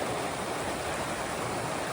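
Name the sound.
river stream flowing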